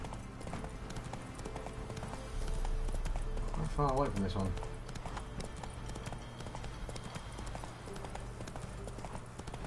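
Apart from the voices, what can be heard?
horse hooves clip-clopping in video game Witcher 3: Wild Hunt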